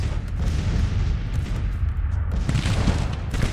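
Skirmishers fire volleys of musketry in the Grand Tactician Civil War game, dense rolling crackles and booms over a heavy low rumble, swelling louder toward the end, with no voices.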